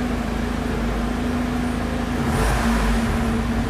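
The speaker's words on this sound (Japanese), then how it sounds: "やっぱスーパーチャージャーが入ってるって感じの音ですね。" Supercharged Toyota 2ZR inline-four in a Lotus Elise revving lightly indoors, a steady close engine drone with a slight swell partway through, no voices.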